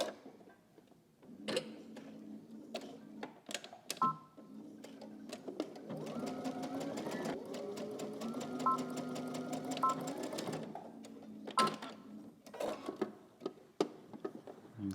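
A sewing machine stitches fabric for a Simplicity S9331 pattern, with short stop-start bursts at first and then a steady whirring run of several seconds. Quiet clicks and a faint voice come between the bursts.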